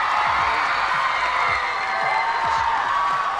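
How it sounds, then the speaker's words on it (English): A live studio audience cheers as Ariana Grande walks in, a steady, roaring wall of crowd noise with whoops mixed in, loud and unbroken throughout. "I don't think I've ever heard a reaction quite like the reaction that we get when Ariana Grande walks in"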